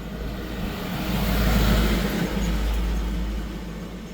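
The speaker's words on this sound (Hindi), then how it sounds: "इधर कोई भी लोडेड वाहन जा रहा है तो हिल रहा है पुल।" On the Dhanghari Bridge, a loaded vehicle passes with a steady low rumble that swells and fades over several seconds, like a heavy motor and tyre drone close by.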